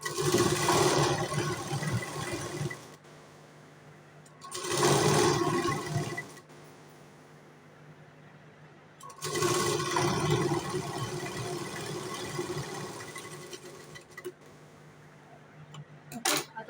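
Sewing machine stitching a katori blouse, three separate bursts of rapid mechanical whirring with quiet pauses between them, close and moderately loud.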